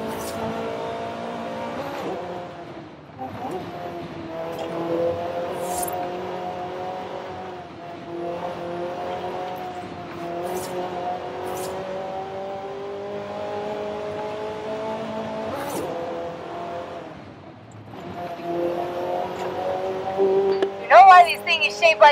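A Ferrari driven in the racing game Forza Horizon 5, its engine droning steadily with shifting revs and brief dips between gears, fairly loud throughout, with a burst of sharper squeal or revving near the end.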